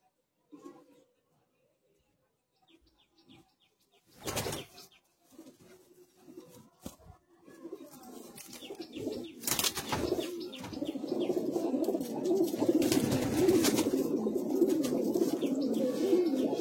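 Pigeons coo in low, soft, repeated calls that grow steadier and louder in the second half, with bursts of wing flapping and scuffling nearby.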